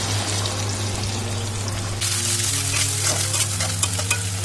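Water is splashed into mustard paste in a hot pan for a fish curry, and the steady frying hiss abruptly bursts into a brighter, bubbling sizzle, with stirring scrapes continuing close by.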